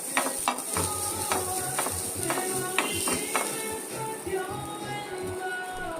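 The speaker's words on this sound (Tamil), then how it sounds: "இப்போ கோகோனட்டையும் ட்ரை ரோஸ்ட் பண்ணி எடுத்துக்குவோம்" Coconut dry roasting in a pan while being stirred, with repeated scraping and clinking strokes of a spoon against the pan over a soft crackling hiss, close and steady.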